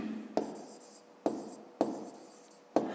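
A pen moving across paper during a fifth-grade maths exercise, giving soft scratchy strokes with a sharp tap at the start of each, four in an even rhythm, close and quiet with no talking.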